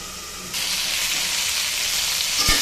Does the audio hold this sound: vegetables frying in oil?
yes